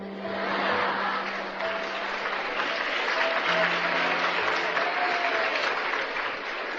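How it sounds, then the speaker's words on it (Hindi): An audience at a lecture breaks into sustained applause, a dense, steady wall of clapping from a large crowd that keeps going for several seconds. "जिस पे ताली नहीं बजानी चाहिए उस पे ताली बजाते हैं।"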